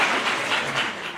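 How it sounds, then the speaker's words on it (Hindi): Audience in a concert hall applauding to welcome a speaker at a poetry seminar in Oslo, a dense, steady burst of clapping. "आपकी बहुत सारी तालियों में जनाब मोहम्मद अनवर सूफी साहब।"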